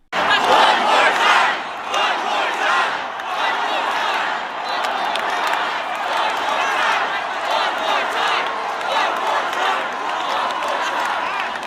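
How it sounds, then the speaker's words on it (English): A large concert crowd chants and roars loudly and continuously at a show in Toronto, a dense wall of many voices with no pause. "the crowd of people violently chanting"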